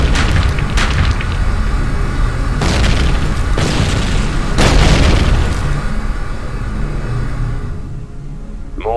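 Heavy explosions and gunfire in the real-time strategy game Ground Control 2 come as repeated loud booms with crackling bursts and a rumbling battle bed, fading near the end.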